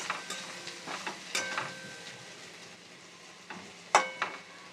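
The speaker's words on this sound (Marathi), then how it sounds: "एकदा जरा परतून घेते मिक्स करून घेते" Carrot and beetroot vegetable stirred in a pan after steaming, soft intermittent scraping and spoon clinks over a faint low sizzle, close and fairly quiet, with a sharper clatter near the end.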